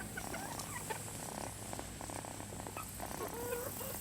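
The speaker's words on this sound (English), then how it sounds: "He's purring." A soft, steady purr from a cat runs continuously, with faint chicken clucking and gobbling somewhere in the background.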